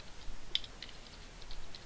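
Light typing on a computer keyboard while entering Excel VBA code, faint scattered key clicks in a loose, uneven rhythm, quiet and close with no talking.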